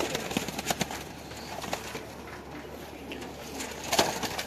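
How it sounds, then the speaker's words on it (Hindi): Pigeons kept at a loft in Lahore coo softly and repeatedly nearby, with wing flutters and sharp clicks scattered throughout. "अच्छा सारे ही कबूतर खूबसूरत भी हैं"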